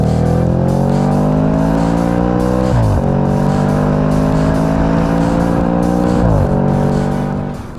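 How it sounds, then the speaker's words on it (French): A naturally aspirated 4.2-litre V8 in an Audi RS5 revs loudly and close, its tone climbing steadily with two sharp drops between pulls as the engine winds toward its high redline. "vous ouvrez les fenêtres et vous aurez les vocalises du V8"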